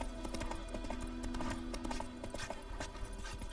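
Steady horse hooves clip-clop at a trotting pace in The Witcher 3: Wild Hunt, fairly faint beneath a dense wash of background game sound.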